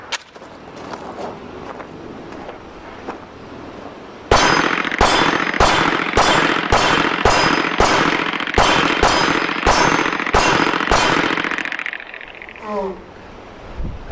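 A PSA Dagger Compact 9mm pistol fires factory ammunition at a shooting range, a rapid string of about fifteen loud, sharp shots close by, followed by a brief metallic clatter.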